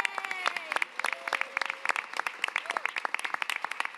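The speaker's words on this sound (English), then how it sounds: "Another round of applause for Max." Applause from the audience at the Greater Boston Food Bank's annual Chain of Giving event: a moderate room of people clapping steadily, with sharp individual claps standing out and faint voices murmuring underneath.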